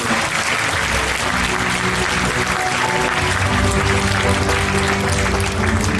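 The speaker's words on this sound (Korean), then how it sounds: "손 한번 들으시되 큰 박수 한번 부탁드리겠습니다" Guests at a year-end gala give a big round of applause, steady dense clapping across the room that holds for the full stretch with a low murmur and faint background hum beneath.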